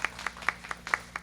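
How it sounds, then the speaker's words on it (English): A few scattered hand claps ring out at a school moving-up ceremony, sparse and moderately close, with gaps between the individual claps rather than a full ovation. "Let's give them a round of applause."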